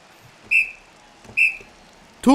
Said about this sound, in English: Two whistles to send everyone to the locker room.